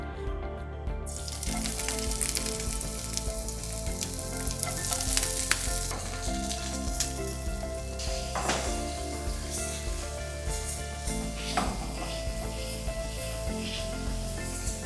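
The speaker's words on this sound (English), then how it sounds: "So these vegetables are going to be stir fried." Colorful vegetables and bell peppers stir-fry over raised heat, producing a loud, dense, continuous sizzle with constant crackle and the rustle of tossing throughout.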